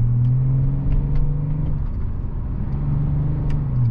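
A BMW 730d E38 with 184 HP, heard from inside while driving: a low, steady engine drone and road rumble, with mild rises in engine pitch and no talking.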